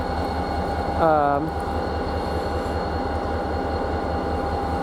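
A CN freight train locomotive running around its train at a siding in St. Marys rumbles with a steady pulsing engine drone, briefly joined by a short tonal horn or squeal near the start, heard close and continuous.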